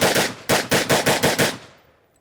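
Rapid gunshots at an outdoor shooting range, a tight string of about seven loud, evenly spaced reports fired in quick succession, then a fading echo.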